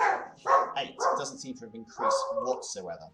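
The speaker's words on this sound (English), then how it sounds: "Excuse my dog barking" A pet dog barks indoors, several loud yips and barks in quick succession, mixed in with someone talking over them.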